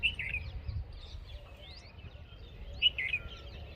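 Small birds flying overhead let out two short bursts of high, thin chirps, one at the start and another near the end, fairly faint against low outdoor rumble.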